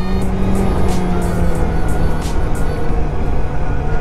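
A Suzuki GSX-S motorcycle running on the road, a steady engine drone with a sustained low tone and rising rushes, loud and close, with no talking.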